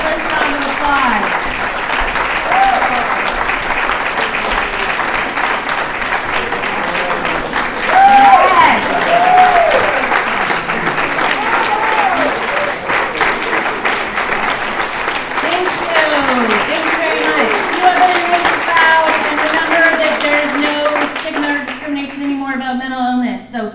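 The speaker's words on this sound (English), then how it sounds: "All the comedians up here for one fabulous round of applause." A comedy show audience gives the comedians a long round of applause, loud and continuous crowd clapping mixed with shouts, whoops and chatter, swelling midway and cut off abruptly at the end.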